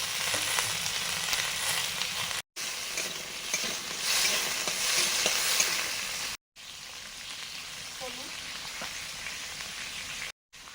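Pumpkin frying in a pan, a continuous crackling sizzle with scraping stir strokes, alone with no talk, broken by a few short silent gaps.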